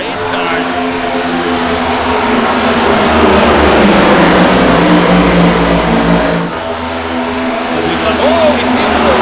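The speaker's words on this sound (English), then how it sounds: "And again, race cars." Race car engines roar loudly and continuously at Daytona, the pitch rising and falling as they rev and speed past, with a voice talking over the noise.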